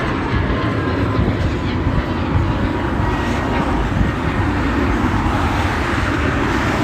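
Cars passing on a wet road on a cold, chilly morning, a loud continuous tire hiss and rumble that stays steady throughout, heard close by with no talking.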